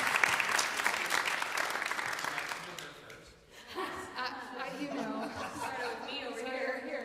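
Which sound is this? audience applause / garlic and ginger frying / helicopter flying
audience applause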